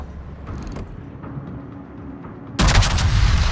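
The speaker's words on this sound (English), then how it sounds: "Rear guns shoot also." Battleship rear guns fire in World of Warships, a sudden loud, booming salvo that bursts in near the end after a low rumbling engine-like drone, with no talking.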